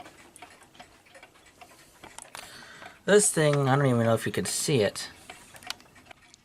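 An old clock ticks with an uneven, offbeat rhythm, faint and close, while a person speaks loudly over part of it.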